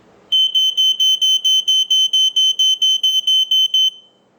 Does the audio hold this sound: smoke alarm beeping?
yes